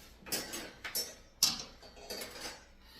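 Clattering of a new metal pot, pan and lid being handled during unboxing, a few sharp clanks and taps scattered over three seconds at moderate loudness, with no talk.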